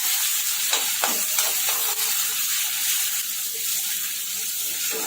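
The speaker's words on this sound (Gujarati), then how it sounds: "અહીં 3 ડુંગળી લીધી છે, એની પેસ્ટ બનાવી લીધી છે, હવે એ એડ કરીશું આપણે। હવે શેકી લઈશું એને।" Onion paste roasting in a pan for chole, a steady close sizzle and frying hiss throughout, with a few soft stirring scrapes early on and no talk.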